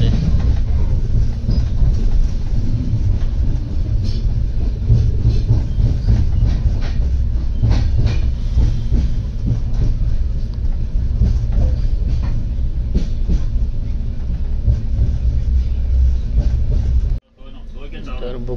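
Heard from inside a carriage, a Konkan Railway train rolls on with a loud continuous rumble and clickety-clack of wheels, then the noise abruptly dips near the end.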